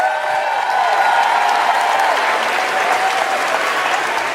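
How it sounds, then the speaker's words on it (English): A large pageant audience applauds the delegates at a beauty competition's preliminary round, with dense, steady clapping that fills the hall and holds loud and even throughout. "let's give our delegates and those capes another round of applause"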